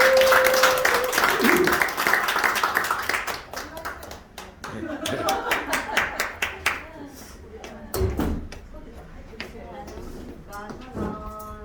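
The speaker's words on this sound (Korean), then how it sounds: "우리 도전하시고 상금 받으시라고 박수 한번" Audience clapping at an event at a Daegu center, a burst of hand claps that starts fairly loud and then thins into scattered claps, with talking over it.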